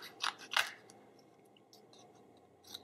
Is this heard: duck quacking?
no